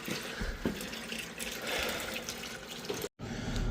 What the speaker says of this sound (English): Quarter turn valve, right there. Okay, she's draining.